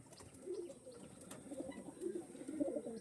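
Pigeons kept for sale coo in soft, low, rolling phrases that repeat through the stretch, fairly faint against a quiet background with no talking.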